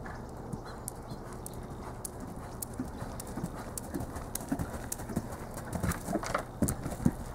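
Irregular hoof clops on hard ground, a horse moving at a walk, with scattered thuds and outdoor background noise; no voices.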